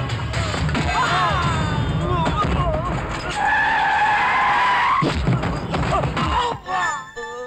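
A car screeches through skidding turns in a dramatic action chase. Tires squeal in repeated bursts and a long howl over a roaring engine, with thumps and shouted voices mixed in.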